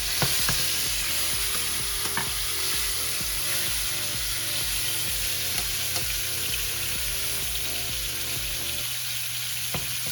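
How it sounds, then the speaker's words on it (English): A rack of lamb searing in a hot pan gives a steady, close, crackling sizzle that runs unbroken throughout, with a low mechanical hum underneath and occasional soft pops, and no talking. "Just searing off the lamb, the rack of lamb right now"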